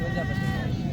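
Goats bleat at a livestock market in Dera Ghazi Khan, a wavering nasal call close by, with people talking over it.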